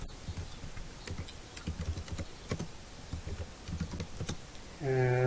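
Quick keystrokes on an HP 630 laptop keyboard come in irregular bursts with short pauses between runs of presses, close and clear, ending with a brief tonal sound.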